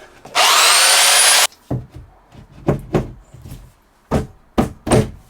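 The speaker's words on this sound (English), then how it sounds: "lots and lots of back and forth with the sander, and I've got a hole and it fits" A sander grinds loudly for about a second while shaping a hole in a camper van fit-out for a pull-out shower toilet. Several sharp knocks and taps of the workpiece follow, then a few more scattered bumps.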